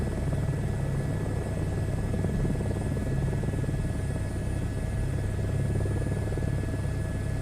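A helicopter in a flight simulator game gives off a steady droning rotor and engine buzz with a constant whine layered on top, unbroken and even throughout with no talking.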